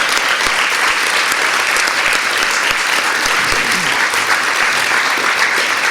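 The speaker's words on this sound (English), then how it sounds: "I think that applause speaks for itself." A live audience applauds at a talk about a South African story, sustained dense clapping from many hands at full volume, steady from start to finish with no pauses.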